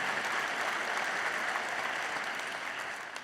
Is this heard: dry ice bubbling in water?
no